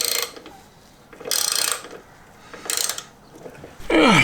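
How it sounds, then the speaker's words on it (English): A homemade thread chaser is worked into a bolt thread on a Volvo V50 tow bar mount, giving three short, separate bursts of scraping and grinding metal, close and fairly loud, followed by a clank at the end. "here's one of my trusty homemade thread chasers."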